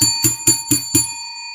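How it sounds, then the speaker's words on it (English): Bell rung as a sound effect on a sports talk show: five quick bright dings in a rapid even rhythm, close and loud, with a ringing tone that fades out. "Let's ring the bell for that."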